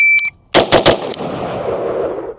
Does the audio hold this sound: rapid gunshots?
yes